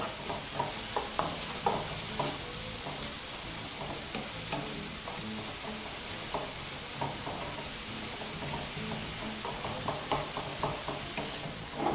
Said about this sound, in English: we're just going to keep mixing that continuously